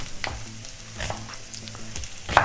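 Chunky onions hit hot fat in a pot alongside sautéed potatoes, giving a steady close sizzle with soft scraping stirs and a sharper clink near the end.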